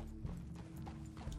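Horse hooves clip-clop steadily at a walk in the video game Red Dead Redemption 2, a soft continuous rhythm over a low ambient rumble with no talking.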